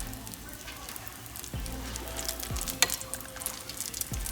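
Akara bean cakes frying in hot oil give a steady close sizzle and crackle, with a few louder pops and splashes as the batter bubbles, and no one speaking.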